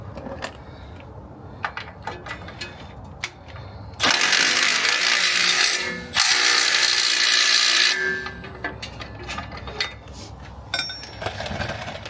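A ratchet cranks a nut onto a bolt on the suspension of a Jeep Gladiator, rapid metallic clicking in bursts, with two long loud stretches of fast ratcheting near the middle and scattered clicks around them.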